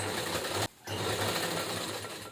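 A sewing machine stitches a cloth tiffin bag in a steady, fast, loud run, pausing briefly near the start before resuming its continuous mechanical whir.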